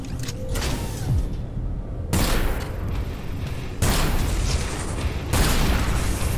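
A chain gun firing in the PositronX video game, a continuous loud, gritty mechanical roar with heavy low rumble, swelling at regular intervals as fresh bursts kick in.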